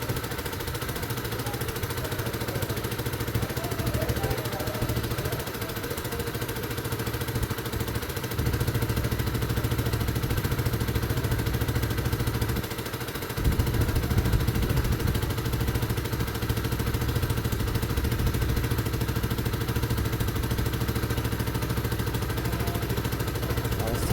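A 125cc Mutt Fat Sabbath motorcycle engine idles steadily while warming up, a continuous low chugging hum close by with slight shifts in tone partway through.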